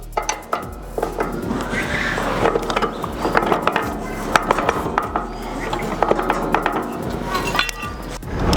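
Clanking metal knocks and scrapes as a mechanical plough attachment is fitted onto a mini power tiller, with a low engine hum underneath and someone talking throughout.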